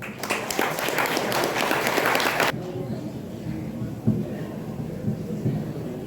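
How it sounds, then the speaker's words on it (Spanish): A short burst of audience clapping at an environmental congress in Dagua, dense for about two seconds, then cutting off abruptly into a quieter room with faint murmurs and movement. "Por favor, un aplauso para él."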